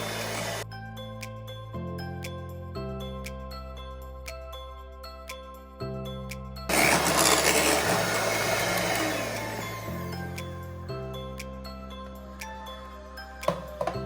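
An electric mixer whips cream for chocolate mousse in a short, loud whirring burst of about three seconds, rising out of steady background music with no talking.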